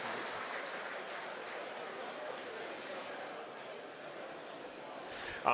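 SpaceX team members cheering and applauding in the background during a Falcon 9 CRS-16 resupply launch, a steady muffled crowd roar lasting several seconds under a broadcast commentary bed.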